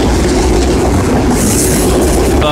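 An empty auto rack freight train on the CN line rolls past close by, a loud steady rumble of wagons with clickety-clack wheel noise and a faint squeal near the end.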